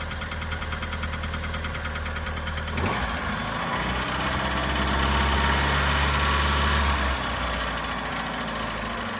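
A Dodge Dakota engine idles steadily nearby with a slight tapping from the lash adjusters, and its tone changes partway through. No one speaks.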